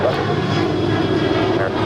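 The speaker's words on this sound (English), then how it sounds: "That was American 669 departing to Chicago. It's a 10-year-old 737-800." A ten-year-old American Airlines Boeing 737-800 departs Los Angeles International, its engines a loud, steady broadband roar that fills the short moment without a break.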